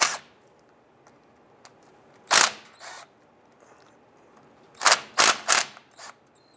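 Top bolts on the rear brake backing plate of a 2002-2008 Dodge Ram 1500 are loosened, heard as a few sharp loud ratchet or impact-wrench bursts separated by quiet gaps, with one quick cluster of three near the end.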